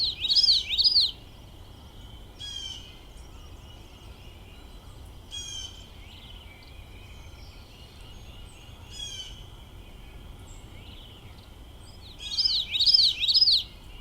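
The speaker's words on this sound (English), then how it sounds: "So here's a song of a common yellowthroat" Common yellowthroat song, a bird of open wetland habitats in East Texas: two bright bursts of rolling, repeated 'witchety' phrases at the start and end, with fainter scattered chirps between over a quiet background.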